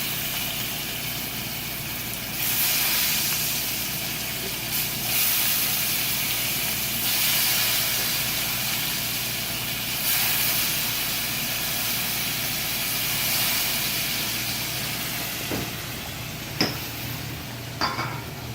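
Tempura vegetables frying in hot oil, a constant loud crackling hiss with a few sharp pops and clinks toward the end.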